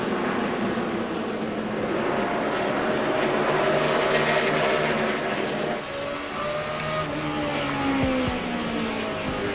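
Onboard Michael Waltrip's 55 NASCAR stock car at the 2006 DirecTV 500, the engine drones loudly and steadily, with its pitch rising and falling as the car moves through gears and corners, and no voices.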